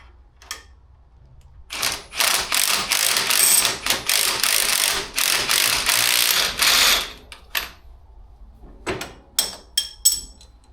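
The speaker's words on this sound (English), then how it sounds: "There's a little bit of overkill there with that giant impact wrench." A large impact wrench drives fasteners while a 6-inch lift kit goes onto an EZGO golf cart, giving a long loud burst of rattling hammering that stops abruptly, followed by a few short clicks and brief bursts nearby.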